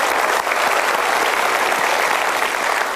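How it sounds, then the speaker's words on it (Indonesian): An audience at a Mario Teguh Golden Ways motivational talk-show taping breaks into dense, sustained clapping that fills the room evenly from start to finish. "Kita berikan tepuk tangan dulu"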